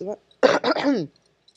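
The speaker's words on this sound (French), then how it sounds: "c'est pas populaire de tousser maintenant." A single short cough bursts out near the microphone during a panel discussion, preceded by a brief bit of voice, then quiet.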